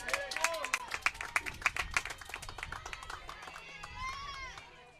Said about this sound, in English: Boy, these crowds have been outstanding here at the Billiken Sports Center.